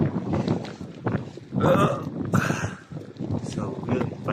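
Strong wind buffets the microphone during an outdoor bike ride in Canada. Two loud gusts rumble across the middle, with a person talking and softer wind noise throughout.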